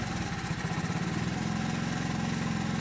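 A small Honda engine idles steadily and alone, a close, even low-pitched chug with a rapid regular pulse and a faint mechanical rattle throughout.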